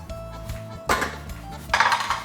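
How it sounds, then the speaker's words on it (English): A pot of pasta set down on a kitchen stove gives two sharp metallic clanks of pan against the hob, close and fairly loud, with a short clattery rattle after each. "I'm going to put this on the stove on a low heat"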